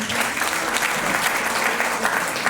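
A crowd claps loudly and steadily for a company's CTC rank achiever at a recognition event, dense applause that fills the whole moment without a break.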